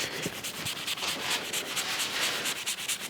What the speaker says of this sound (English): on the brass with the dry moly, I'm gonna rub it with that melamine sponge